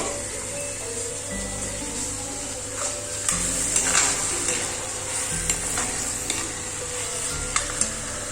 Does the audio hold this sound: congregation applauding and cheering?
no